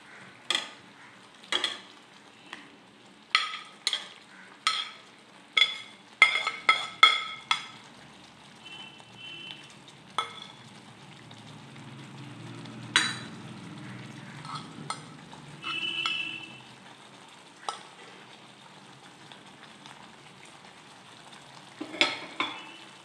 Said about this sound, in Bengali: এবার এর মধ্যে আমি চিংড়িগুলো দিয়ে দেব।